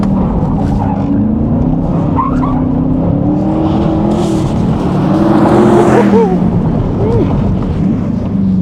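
A Corvette engine hums steadily as the car drives around a wet track, rising slightly in pitch as it passes the final turn, with faint background chatter.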